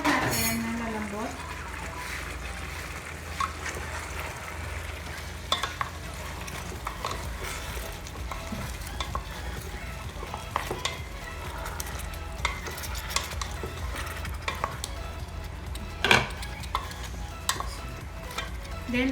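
Carrots and potatoes are stirred into a simmering pot of chicken curry, with soft scraping and sloshing clatter and a low sizzle running steadily underneath and a sharper knock near the end.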